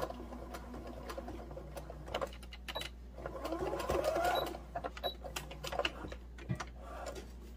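A sewing machine stitches through thick fleece for a stuffed moose toy, its needle running in quick rhythmic bursts with short pauses, close and fairly quiet.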